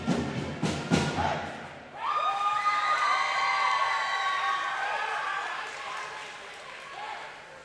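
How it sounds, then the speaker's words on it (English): Cheering and shouting of a high school crowd at a girls basketball game between Fort Vancouver and Hudson's Bay, a swelling roar of voices in the gym that follows a few thumps and then slowly fades. "Pretty fun crowd tonight."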